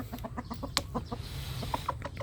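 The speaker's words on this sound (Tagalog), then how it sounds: "Manok ni Aling Mima yan" A chicken clucks in a quick, steady run of short notes, close by and fairly quiet.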